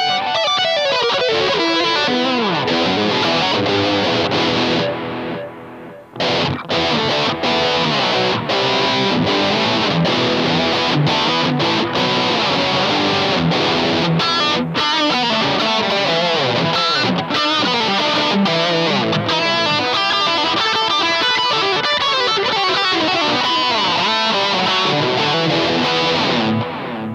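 Electric guitar played through a Cool Music Echolation echo pedal set to analog mode, dense sustained notes with repeating delayed echoes and slight distortion, loud and continuous with one brief pause.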